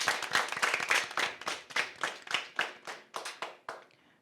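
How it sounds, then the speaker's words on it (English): An audience at a spelling bee claps in a short round of applause, with the individual hand claps quick and distinct before they fade out after a few seconds. "Please give her a round of applause."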